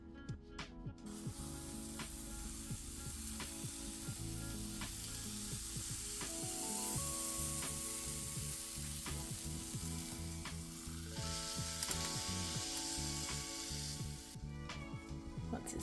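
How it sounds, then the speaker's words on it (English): Banana bread waffle batter cooking in a waffle iron, giving off a steady, close sizzle with crackling and hissing that runs unbroken throughout. "cook your waffles to your waffle iron's instructions, and I'm just going to start cooking the batter"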